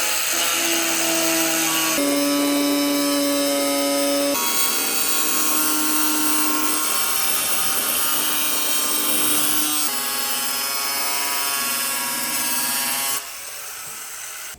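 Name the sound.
angle grinder cutting through Bondo on a Miata body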